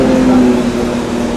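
Porsche 917 race car engines at the Goodwood Festival of Speed produce a loud, continuous droning roar with a steady low tone, unbroken throughout and with no voices.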